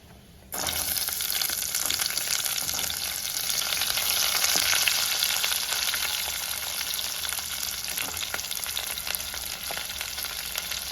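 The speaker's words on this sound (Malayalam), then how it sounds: "നമുക്ക് ഇതിലേക്ക് ഒരു അല്പം കറിവേപ്പില ഇട്ട് കൊടുക്കാം ഒപ്പം രണ്ട് വറ്റൽ മുളക് നമുക്ക് ഇതിലേക്ക് അരിഞ്ഞു വെച്ചിരിക്കുന്ന ചെറിയ ഉള്ളി ചേർത്ത് കൊടുക്കാം" Curry leaves, dried red chillies and chopped shallots hit hot oil for a Kerala-style snake gourd curry, setting off an abrupt, loud sizzle that stays strong and continuous, with faint stirring under it.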